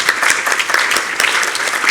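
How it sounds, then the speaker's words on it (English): Sustained audience applause at a broadcast-industry conference closing ceremony, many hands clapping steadily and dense for the whole stretch, fairly loud and close with no talking. "give them, a bit of a round of applause"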